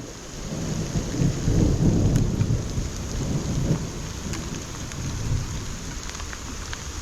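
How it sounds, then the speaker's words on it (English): Thunderstorm with rain during a muddy trail ride, heavy rain hissing steadily while low thunder rumbles swell and fade, with occasional sharp impacts, no talking. "Oh shit, it's starting to hail."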